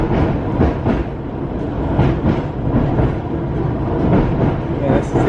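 An Isle of Wight Island Line Class 484 train rolls steadily along the rails, a loud continuous rumble from inside the carriage with rhythmic clicks of wheels over rail joints throughout.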